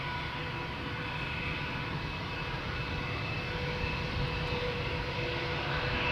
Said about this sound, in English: A321, flight 1302. Finnair going to Helsinki.